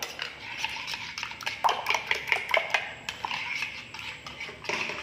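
A utensil stirs an egg and flour batter in a bowl, clinking and scraping against the sides in uneven, close strokes with short pauses, and no talking.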